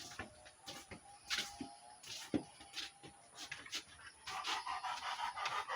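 A dog on a Philippine farm house deck pants in quick, rhythmic bursts close by, with short breathy puffs repeating steadily and some faint bird chirps in the background.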